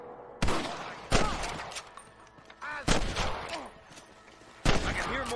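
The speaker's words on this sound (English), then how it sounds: "I can hear more gunshots." Gunshots ring out in a Western video game, Red Dead Redemption: several loud, sharp cracks spaced a second or so apart, each trailing into a short echoing tail, with quieter background sounds between.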